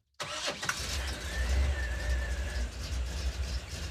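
A Chevy K20 4x4 truck engine cranks and catches right after a silent start, then settles into a loud, rough, close idle with a faint whine on top.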